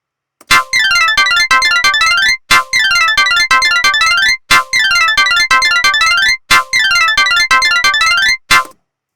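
Polyrhythms of 7, 8 and 9 play simultaneously as dense, bright, rapid clicks and tones, repeated in four loud bursts of about two seconds each, separated by brief gaps.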